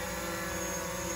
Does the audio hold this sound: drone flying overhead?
yes